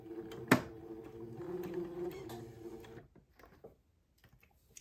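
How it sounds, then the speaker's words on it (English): A sewing machine stitching a sleeve into a gown with a quarter-inch seam, running in a steady close mechanical whir for about three seconds before stopping, followed by faint handling clicks. "I'm going to sew my sleeve into my garment, taking my pins out as I come to them"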